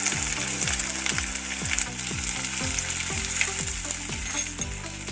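Garlic, ginger and curry leaves fry in hot oil in a village kitchen, giving a loud, close, continuous sizzle with bright crackles and a repeating low mechanical hum underneath.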